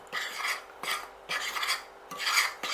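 Self-raising flour, sugar and baking powder stirred together in a bowl, giving four scraping, rasping strokes in a steady rhythm, close and alone.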